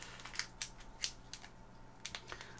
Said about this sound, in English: I always use a pair of scissors to open these things.